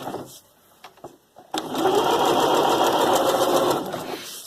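A sewing machine stitches a fabric edge: a few short taps and stops, then a loud, close, continuous run of rapid stitching that ends with a backstitch.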